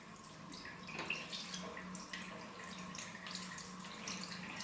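Water running from a tap while a makeup brush is rinsed under it, a steady close splashing flow with light dripping throughout.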